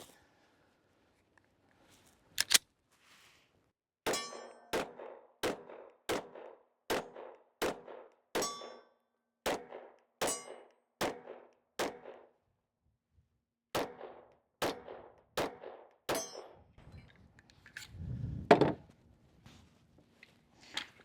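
A Ruger RXM pistol fires a steady string of roughly seventeen sharp, loud shots outdoors, one every half second or so, with a brief pause midway and a single early shot before the string.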